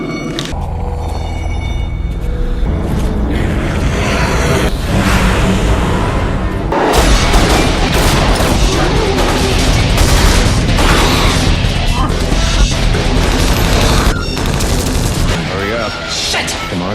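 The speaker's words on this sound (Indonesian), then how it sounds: "puluhan zombie datang menyerang mereka dan baku tembak pun tak terelakkan" Dense gunfire and crashing booms in a zombie shootout from a Resident Evil film, continuous and loud throughout amid a busy soundtrack.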